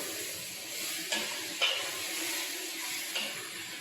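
Vegetables being stirred in a cooking pot for lentil soup, a steady sizzle with a few soft scrapes and knocks of the spoon against the pot, close and moderately loud with no talking.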